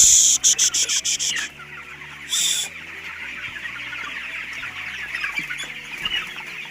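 Chickens cluck and crow on a poultry farm where bran bedding is being raked, the birds loud and close with a burst of rapid calls at the start, then a steady chorus of clucking continuing throughout.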